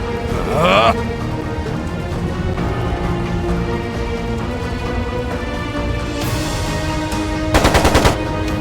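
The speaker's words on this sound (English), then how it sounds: "It sounded like a machine gun." Rapid machine gun fire from a battle scene in the video game Trails of Cold Steel II, heard as a quick burst of rattling shots near the end, over a continuous backdrop of in-game music and effects.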